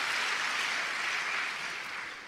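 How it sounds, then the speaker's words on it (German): Audience applause at a German-language lecture event, a dense, steady patter of many hands clapping together that fades slightly toward the end, with no talking over it. "Ein Applaus für uns alle."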